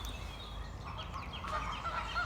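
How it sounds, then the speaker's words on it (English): Geese honking close by in an outdoor waterside setting where swans are also present, a continuous noisy chorus of calls over wind and ambient noise, fairly faint overall. "I get distracted by the racket close to me as the geese fest continues"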